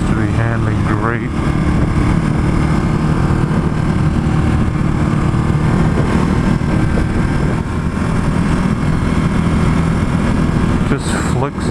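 A Ducati Hypermotard motorcycle engine drones steadily while riding around Concord, California, its continuous hum mixed with heavy wind buffeting as a rider talks over it.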